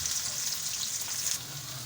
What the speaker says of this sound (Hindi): तो इसमें हम सबसे पहले हम भिंडी फ्राई कर लेंगे